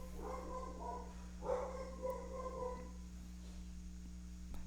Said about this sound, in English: My dog's going crazy. Must be the mailman.